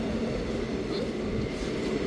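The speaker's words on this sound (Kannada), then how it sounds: "ಇವಾಗ ನಮ್ಮದು ಟ್ರೈನ್ ಬಂತು." A train arrives at a station platform with a steady, heavy rumble of rolling wheels and carriages, loud and continuous throughout.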